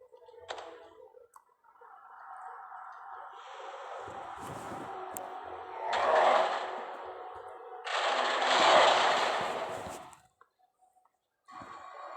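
Gunfire and impact bursts from Batman: The Telltale Series, a sharp click followed by two loud swelling blasts against a droning game soundscape, without talk.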